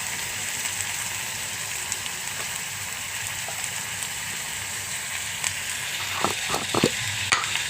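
Tomatoes and turmeric sizzle and fry steadily in a pan for Andhra-style tomato gongura curry, a continuous close hiss with a few stirring clinks near the end.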